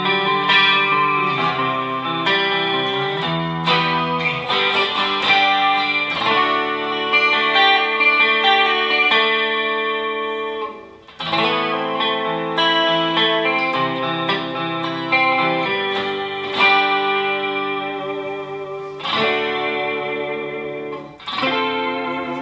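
Clean-toned electric guitar fitted with a Bigsby vibrato plays chords and melodic lines with chorus-like shimmer, loud and close, ringing notes phrased in two passages separated by a brief pause.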